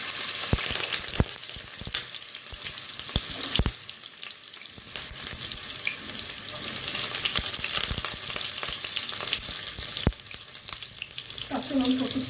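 Chopped garlic hitting hot oil for a Bengali-style broccoli sabji, a continuous sizzle broken by repeated sharp clatters of spatula on pan, a brief lull around a third of the way in, no speech.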